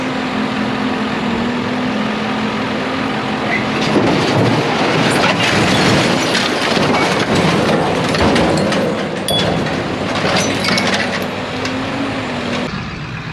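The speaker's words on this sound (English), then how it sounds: "They're crushing the car into a million pieces." Heavy machinery crushes a car, with loud continuous grinding, crunching and metallic creaks going on throughout, close and dense.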